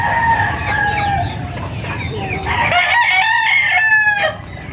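Several hens cluck and squawk nearby in a muddy farmyard, with a rooster's crow rising over the flock near the end against a noisy background.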